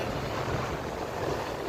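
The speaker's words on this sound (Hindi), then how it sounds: "अभी आपको पूरा पानी का शोर सुनाई दे रहा होगा कि पीछे अभी आ रही वेव्स आ रही" Sea waves at Half Moon Beach make a steady, broad rushing wash with wind noise on the microphone, continuous and moderately loud with no voices.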